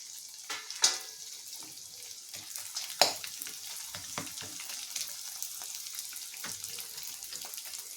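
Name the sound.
edible gum (dink) frying in ghee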